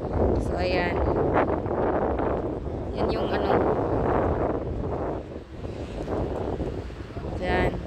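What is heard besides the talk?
strong wind blowing at seaside shrine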